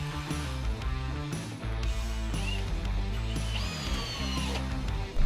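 A power drill drives screws and wall plugs into a veranda pillar, with steady whirring bursts that change pitch between starts and stops, running nearly continuously and close.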